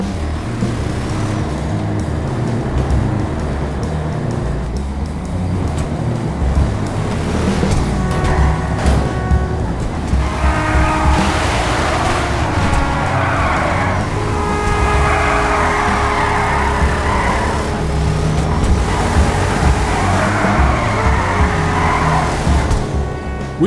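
A Vamos muscle car roars along in GTA Online on the drive to Fort Zancudo, engine droning steadily throughout, with rising revs and higher-pitched acceleration bursts in the second half.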